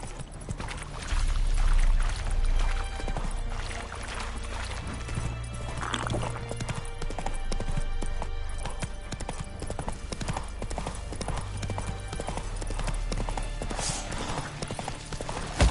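Roach, the horse in The Witcher 3, gallops with a fast steady clip-clop of hooves over game music and ambience, with a brief whinny and heavier thuds near the start.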